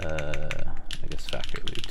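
Rapid typing on a QK Neo60 Cu keyboard fitted with factory-lubed Keybay Tech Blue Cheese switches on a PC full plate, with GMK keycaps: a quick flurry of crisp close keystrokes, with a brief voice at the start.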